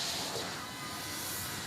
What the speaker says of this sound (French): ses trains restaurés qui traversent la campagne anglaise